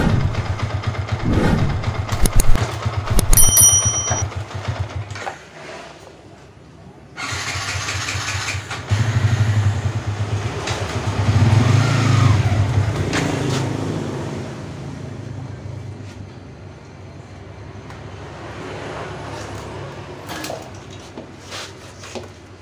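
Yamaha Vixion motorcycle that stalls when put into gear starts up close by, then idles steadily with several throttle blips and revs rising and falling over about twenty seconds, loud and continuous with workshop noise around it.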